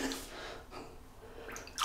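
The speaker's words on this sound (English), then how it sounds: "wet the brush." Water splashes and drips close by as a shaving brush is wetted, a short hissing run of water that fades and then returns briefly.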